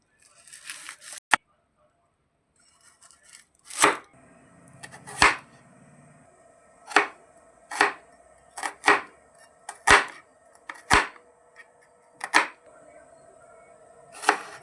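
A large onion is cut into small pieces with a knife: about a dozen crisp, separate blade strikes against a cutting surface. The strikes come in an uneven rhythm, close and fairly loud, with short quiet gaps between them.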